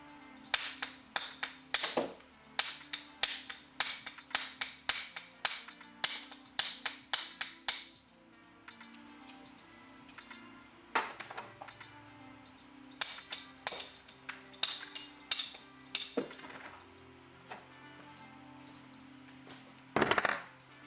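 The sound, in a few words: banging to break dental material off articulators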